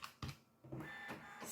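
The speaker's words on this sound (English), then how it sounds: "Excuse that noise was from the printer." A home printer runs nearby, giving a brief, quiet mechanical whir with a couple of soft clicks and no voices.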